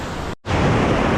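Ocean waves breaking on a shore at high tide, a loud continuous wash of surf that drops out for an instant before the broad roar returns.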